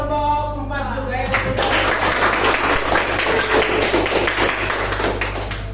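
Applause in a classroom as students clap for a presenting group, a dense, steady wash of hand claps rising after a brief moment of talk and continuing loud over a low hum.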